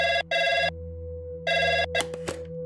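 An old-style telephone bell rings in two double bursts, loud and close, over a steady low hum, followed by a couple of clicks as the receiver is picked up.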